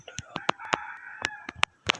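A rooster crows nearby amid sharp clucks and squawks from other fowl, loud bursts spread across the moment.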